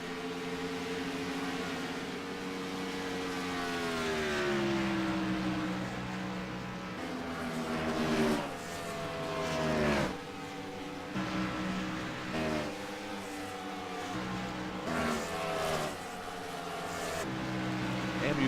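Race cars on track in a racing video game, a continuous engine drone with rising and falling pitch sweeps as the cars accelerate and shift, steady and fairly loud throughout.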